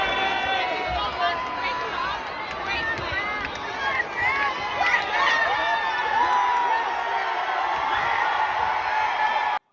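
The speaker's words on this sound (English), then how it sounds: "there's a lot of cheering and everything" A crowd cheers and whoops in a game clip played back on a pregame podcast, with shouting voices and excited babble rising and falling over several seconds.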